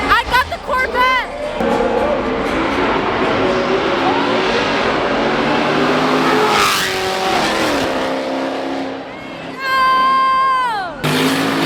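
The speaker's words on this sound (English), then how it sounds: "A Charger and a Corvette about to race right now." A Dodge Charger and a Chevrolet Corvette at a drag race, engines revving hard and shifting through gears as they launch and pull away, with crowd noise and voices talking throughout.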